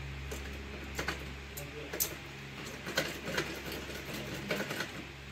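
A sewing machine runs at home with a steady low mechanical hum and rhythmic ticking stitches, fairly close, while people talk over it.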